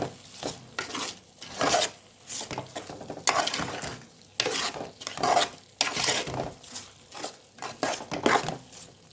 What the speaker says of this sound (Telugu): ఒకసారి అన్నీ కలిసేలా కారం కలిసేలా కలుపుకోవాలి. చక్కగా కారం అంతా పట్టేలాగా కలుపుకోవాలి.